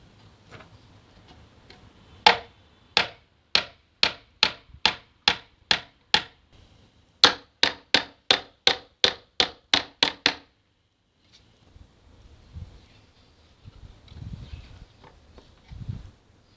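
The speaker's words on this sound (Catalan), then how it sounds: "Col·locarem les potes just a la punta de les bases i ho clavarem." Nails driven into the legs of a small wooden stool: two runs of sharp, evenly paced hammer strikes, about a dozen each and roughly two per second, close and loud, separated by a short pause and followed by quiet handling noise.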